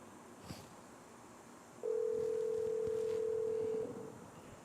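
A steady electronic phone tone sounds for about two seconds against a faint noisy background, then cuts off.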